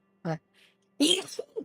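A single short sneeze bursts out close to the microphone, followed by a brief throat noise and small breathy sounds, with a quick mumbled syllable before it.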